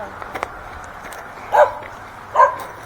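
A couple of dogs in a rural yard in St. Thomas, Jamaica bark twice at a distance, two short separate barks over a faint outdoor background with light human noise.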